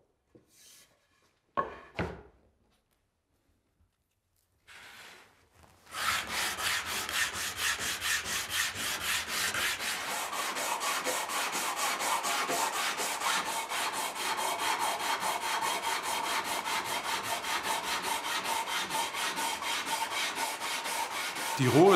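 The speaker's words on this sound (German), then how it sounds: "Und mit verschiedenen Schleifkörnungen glättern wir die Holzfaser" Wooden alphorn tubes are sanded by hand with sandpaper of several grits after milling. A few short scrapes come first, then a steady, close, continuous rasping rub runs on at an even pace.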